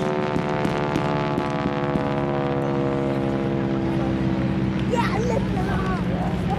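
A propeller aircraft drones steadily overhead during a WWII reenactment strafing pass at Benton Harbor, a loud sustained engine tone with someone talking over it.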